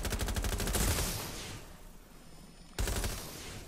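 Rapid bursts of gunfire ring out in the video game Watch Dogs Legion, a quick rattling volley that fades, then a second loud burst near the end.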